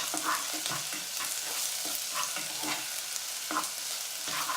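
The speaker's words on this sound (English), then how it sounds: "I'm just going to stir that, not even for a minute. I can already smell that the garlic is cooking." Crushed garlic sizzles steadily over sautéing onions in a soup pot for split pea soup, with a spoon stirring and scraping at regular intervals, close and without speech.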